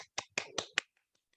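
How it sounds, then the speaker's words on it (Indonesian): A short round of applause for a student group in a classroom: four or five sharp, close hand claps in quick succession, then a few faint scattered claps trailing off. "Yuk, aplaus dulu yuk."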